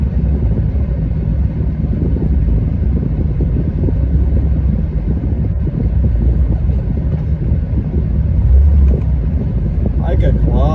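A worn 300,000-mile Chevrolet Silverado truck idles and creeps in reverse with a steady low engine rumble, nearby and continuous, with wind buffeting the microphone.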